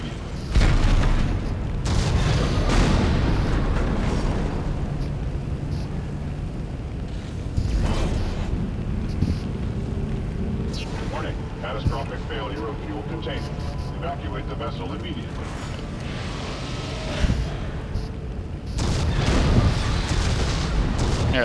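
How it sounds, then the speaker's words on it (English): A spaceship blowing apart in the video game Dead Space, with heavy booming blasts and rumbling explosions rolling on and off over about twenty seconds, loud and dense throughout. "Yes, the ship is exploding."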